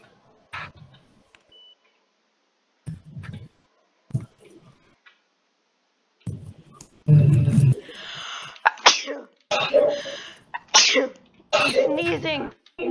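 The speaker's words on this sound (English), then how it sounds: "Sneezing!" A sneeze sound in a Roblox Entry Point game, played alongside beeps, ticking and other game effects, with a person talking over it.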